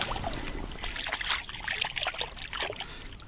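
A found silver chain is swished and rinsed in Dnieper river water, giving faint, close trickling and splashing sounds in short bursts.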